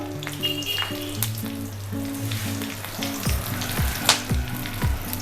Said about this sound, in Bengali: এই ফোড়নটা হয়ে গেলে এটা আমি কাঁচা লঙ্কাও দিয়ে দিচ্ছি দুটো।